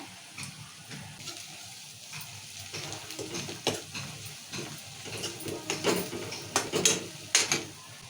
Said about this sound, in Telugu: ఇప్పుడు కొత్తిమీర వేసాం కదా ఒకసారి కొత్తిమీర కూడా కలుపుతున్నాం ఇలా